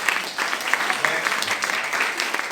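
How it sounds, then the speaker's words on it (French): Church congregation applauding and cheering in a dense, steady wash of clapping throughout, with voices mixed into the crowd noise. "acclame Jésus"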